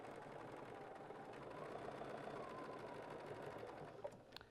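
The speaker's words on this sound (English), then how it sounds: "we'll sew that seam" A sewing machine stitches a quilt seam with a fast, steady mechanical whir and needle chatter, continuous and even, quiet but close.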